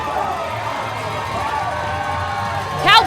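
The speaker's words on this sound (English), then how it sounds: "Listen to this crowd." A large wrestling crowd roars and cheers steadily at a live wrestling event, with a loud swell near the end.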